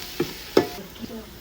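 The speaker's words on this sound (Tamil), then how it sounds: "எல்லாத்தையும் சேர்த்து வதக்கணும்." Ingredients for chicken biryani sautéed in a pot, a few short stirring scrapes over a faint sizzle, close and quiet.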